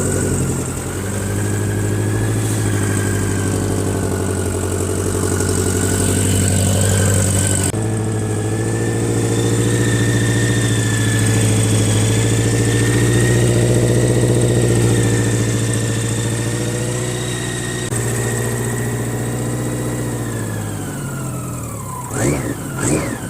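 BMW K100 motorcycle engine started on a little choke, then settling into a steady, close idle with a constant droning hum and slight pitch shifts, running alone for over twenty seconds before a few clicks at the end.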